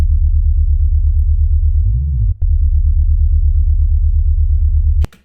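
A jungle sub bass patch from the Serum 2 synthesizer heard alone: a deep, fast-wobbling, slightly driven low tone, steady and loud, with one brief pitch dip and a short gap midway before it cuts off near the end.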